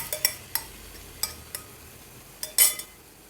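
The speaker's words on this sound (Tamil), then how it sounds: "முட்டையை சேர்த்துட்டு என்னென்னா கண்டினியூஸாக கிண்டிகிட்டே இருக்கணும்." Beaten eggs being stirred in a pan for egg podimas, a spoon clinking and scraping against the metal in scattered sharp strikes over a faint low sizzle.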